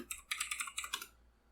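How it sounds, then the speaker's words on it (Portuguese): Quick burst of about eight keystrokes on a computer keyboard, close and crisp in an even rhythm, then fading to quiet room tone. "Basta digitar Flutter"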